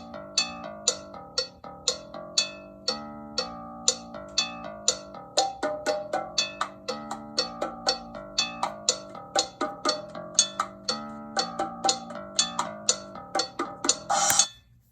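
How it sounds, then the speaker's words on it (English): Bongos recorded as a separate percussion track, tapped in a quick, steady pattern of sharp, bright hits for about fifteen seconds. The sound is close and dry, with a brief rattling flourish at the end and no talk. "This is what a little bit of the bongo sounded like."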